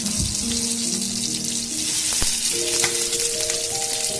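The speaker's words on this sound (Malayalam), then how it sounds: "ഹൈ ഫ്ലെയിമിൽ വെച്ച് വേണം ഇത് വഴറ്റിയെടുക്കാൻ" Crushed garlic, dried chilli and chopped vegetables sautéing on high flame for chicken fried noodles, a loud continuous sizzle with a low steady hum and occasional scrapes, close up with no talk.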